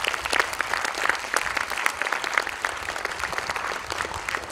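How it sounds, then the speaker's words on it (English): Students at a career counselling session give sustained applause, dense steady clapping filling the room throughout with no pause. "I want to listen to a huge round of applause."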